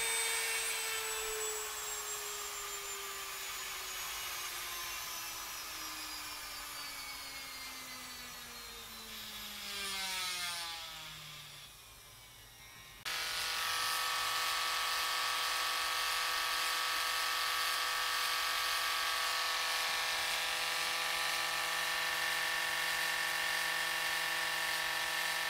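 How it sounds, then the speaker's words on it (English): A small electric motor whines steadily and close, its pitch sliding downward as it slows, briefly dropping away, then restarting to a steady buzzing hum, with no voices. "This is all just noise from the motor."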